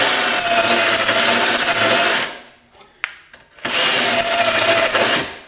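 A power drill with a spot weld bit grinds loudly through a car's sheet metal spot welds in two long bursts, separated by a short pause with a brief tap.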